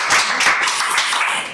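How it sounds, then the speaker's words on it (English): An audience applauds a man at a design academy and innovation lab event, a dense burst of clapping that holds steady and close for a second and a half. "just clap for him again"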